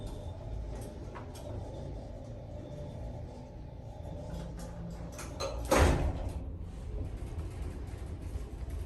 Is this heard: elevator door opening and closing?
yes